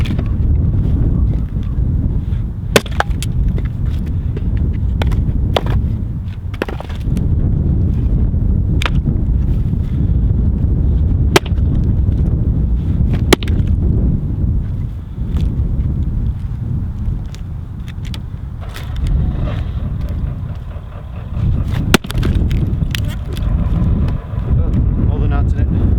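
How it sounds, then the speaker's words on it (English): Wyoming wind picks up outdoors during wood splitting with an axe, a constant loud rumble buffeting the microphone for the whole stretch, with sharp knocks and clatters breaking through it. "The Wyoming wind is starting to kick up again."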